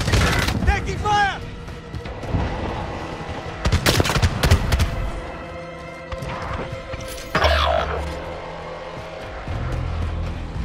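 Bursts of gunfire and booming blasts sound in a Call of Duty: Modern Warfare match, mixed with vehicle noise and game voice callouts, with loud volleys coming and going.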